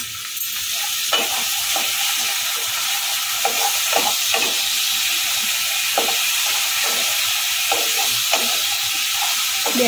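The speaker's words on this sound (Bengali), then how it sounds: "একটু ভালো করে নেড়ে নেব।" Gram flour batter is stirred into sizzling potato sagu in a pan, a steady hiss and bubble broken by regular scraping strokes of the spoon.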